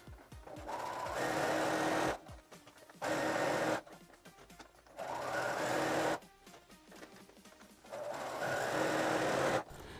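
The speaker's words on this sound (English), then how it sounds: "you want to make sure that you're pulling tightly as you're sewing" A sewing machine stitches personalized shorts in four bursts of rapid mechanical whirring, each about two seconds long, separated by short quiet pauses, close and fairly loud.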